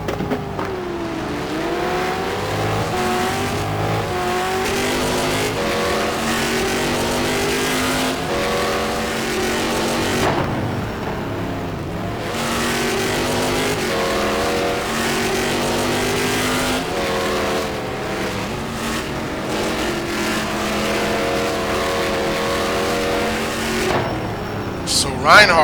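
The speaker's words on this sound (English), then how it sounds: "Reinhardt with his mirror full of Florian's GT1, Ford GT1." Ford GT1 race cars howl around the Fuji circuit in a racing video game, engines revving and shifting through gears in steady loud sweeps, with a commentator talking over the race.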